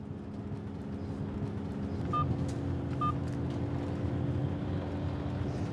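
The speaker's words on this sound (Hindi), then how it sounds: "बेल जा रही है लेकिन उठा नहीं रही वो।" Unanswered phone call: two short, faint electronic ring tones sound about a second apart over a steady low rumble of a moving car.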